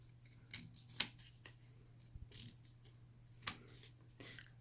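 Quiet, sparse snips and light clicks as Tim Holtz scissors cut thin paper strips, a handful of short sharp cuts spaced irregularly over a low steady hum.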